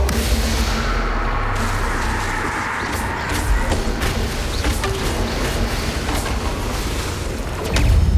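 Spell explosions from the Bombarda charm in the video game Hogwarts Legacy, a sustained low rumbling battle din with repeated booming bursts and crackling impacts, dense and continuous, with a heavier blast near the end.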